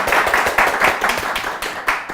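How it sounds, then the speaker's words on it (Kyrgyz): A studio audience on a television quiz show applauds, with lively, uneven bursts of hand clapping that rise and dip in waves, close and fairly loud. "Кол чабуулар."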